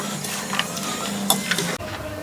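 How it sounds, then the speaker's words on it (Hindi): Gram flour batter with sliced onions and green chillies is stirred by hand for onion pakoras, a close, continuous wet scraping with a few light clicks over about two seconds. "पहले थोड़ा बेसन डाल के मिक्स करके देख लेंगे कि और कितनी ज़रूरत है।"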